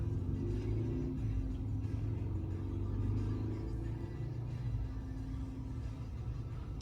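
A 2026 GMC Hummer EV drives slowly with its wheels turned fully in King Crab walk mode, giving a low steady electric rumble and faint whir with soft road noise.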